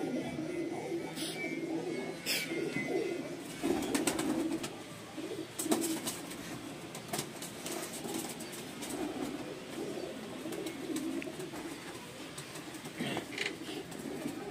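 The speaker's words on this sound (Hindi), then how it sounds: "ये पाकिस्तानी कबूतर है" Pakistani pigeon, a dub-type bird, cooing in low soft bursts among other birds, with wing flaps and sharp clicks scattered through a quiet setting.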